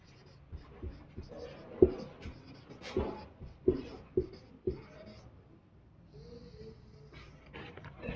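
A pen scratches out an answer on paper in short irregular strokes and taps, close and fairly quiet, with brief pauses between words and no speech.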